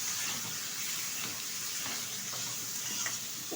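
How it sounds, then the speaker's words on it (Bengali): Bitter gourd slices fry in oil in a wok with a constant, even sizzle and soft stirring, heard close up with no talking. "আর সেটাই কড়াইয়ের মধ্যে আমি তেলে ঢেলে দিলাম। এখন একটু সুন্দরভাবে ভেজে নেব।"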